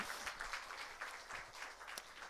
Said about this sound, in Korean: 여러분들 위해서 우리 박수 한번 칠까요?